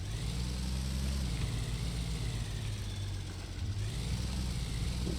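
Steady low rumble of a tractor engine in the farming game Pure Farming 2018, droning continuously at moderate level with a slight dip and recovery in the middle, with no voices.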